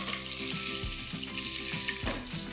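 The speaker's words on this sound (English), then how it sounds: "Remember, we are toasting the rice." Thoroughly washed rice toasts in a hot pan for beef dirty rice, giving a steady close sizzle and frying crackle throughout, with a couple of brief stirring scrapes and no voice.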